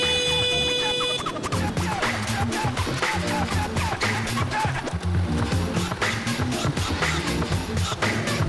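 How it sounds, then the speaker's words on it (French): Car horns honk continuously in dense traffic while cycling on a world tour, loud and overlapping with engine and street noise; a long horn blast opens the clip, then many short toots follow. "le klaxon, on a le doigt dessus en permanence et ça veut plus dire grand-chose"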